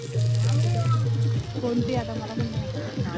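Bombay duck (bombil) fish frying in hot oil, giving a steady sizzling hiss with low rumbling bubbles, with background voices and bustle from a family trip meal in Shrivardhan, Konkan.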